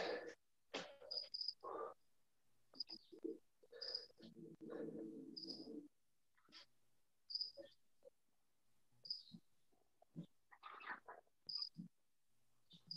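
Cicadas sing faintly in short, high, repeated chirps that come at irregular intervals, mixed with quiet murmurs and soft rustling in a calm setting.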